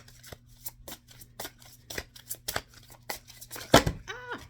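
Tarot cards shuffled by hand in a sequence of quick riffling bursts, with a sharper card snap near the end, close and fairly quiet.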